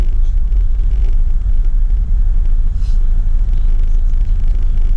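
Car traffic rumbles continuously through a narrow alley in La Trinidad, a loud, close low-pitched engine drone with brief passing hisses and no talking.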